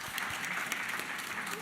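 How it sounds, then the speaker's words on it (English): Steady applause from an audience, a dense wash of clapping that holds evenly throughout without pause. "One more round of applause."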